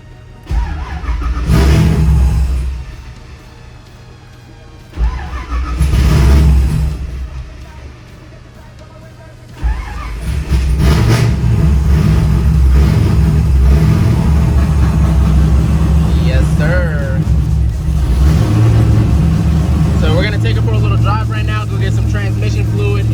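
The engine of an LS V8-swapped Nissan 350Z revs hard twice in loud surges, then settles into a steady, heavy idle and running rumble close by, with people talking over it.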